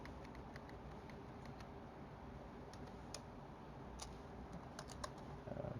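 Computer keyboard keys, including the tab key, pressed a handful of times as faint, sparse clicks over a low steady hum, with no talking.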